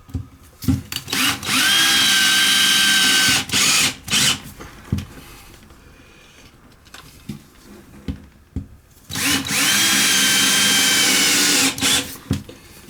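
A power drill whirs in two long loud bursts while backing screws out of a toilet during a repair, with scattered knocks and handling clatter between the runs and a quieter gap in the middle.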